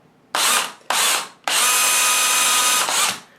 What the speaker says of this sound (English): take a drill bit and drill 1/8 hole in each one of these